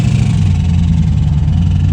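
A damaged V8 in a sleeper daily car idles with a loud, steady, rough low rumble, running continuously and close, with no talk over it.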